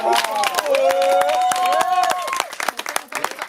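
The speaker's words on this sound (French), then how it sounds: "on applaudit très fort Garance" An audience at a slam poetry evening in Vence claps for a performer while voices and cheers carry over the applause, with sustained tonal cries above dense clapping that breaks into scattered claps.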